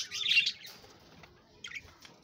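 Pet budgies chirp in a home bird colony, a brief burst of bright tweets at the start followed by a couple of fainter, shorter calls against a quiet room.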